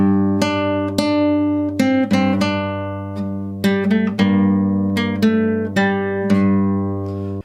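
Solo guitar playing the main part of a piece from The Mandalorian Season 2: clearly separated plucked notes in a loose rhythm over a ringing low bass, close and moderately loud, each attack decaying before the next.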